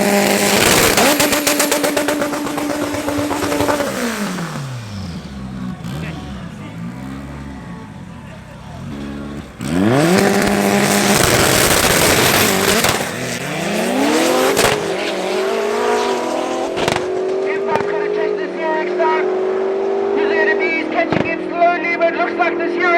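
Drag race cars at Tarlton International Raceway during an MSA regional round, including a BMW and a Porsche, roar loudly through rising and falling gear changes with sharp revving, passing runs close by while a commentator talks over them.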